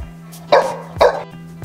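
Two sharp, loud dog barks indoors in a home, about half a second apart, then a softer third yelp, over a steady low electrical hum.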